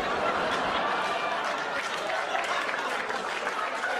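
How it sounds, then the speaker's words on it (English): Audience applause at a live stand-up comedy show, a full crowd clapping steadily and densely for the whole stretch, with faint cheers and murmurs mixed in. "Applause break on a joke I've never said before on my special"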